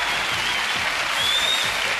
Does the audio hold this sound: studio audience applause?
yes